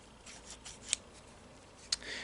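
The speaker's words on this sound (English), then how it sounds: "Alright, so now we just take my special scissors" Scissors cut into a sealed Magic The Gathering Forgotten Realms booster box with two crisp, close snips about a second apart, over faint room tone.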